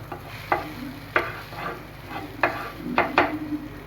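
An egg omelette cooks in a pan, giving a steady low sizzle broken by several sharp scrapes and taps of a spatula against the pan as it is wrapped and turned.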